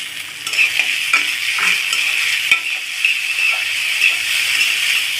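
Grated, washed potato and onion frying in a pan, stirred with a utensil; a bright, steady sizzle with intermittent scraping and light clinks, close up and without speech.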